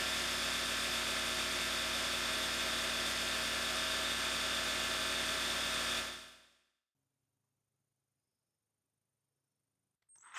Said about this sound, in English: I shined up the pins on the wire wheel.